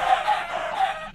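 Minecraft chickens cluck in a short run of bright, repeated calls, near and clear with no talk over them.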